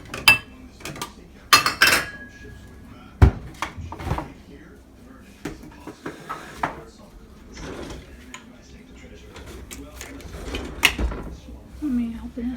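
Kitchen clatter while a Chinese mustard container is opened, with scattered clicks, taps and knocks of packaging and utensils under intermittent talk.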